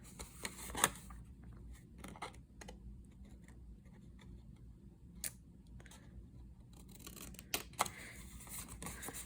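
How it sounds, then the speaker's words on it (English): Scissors snipping a small triangle out of material, a series of sharp, crisp cuts spaced irregularly, close up and fairly quiet, with soft handling noise between snips and no talking. "take your scissors and trim out that little triangle"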